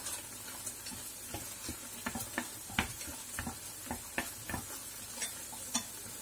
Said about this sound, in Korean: 스프와 면이 잘 섞이도록 젓가락으로 저어줍니다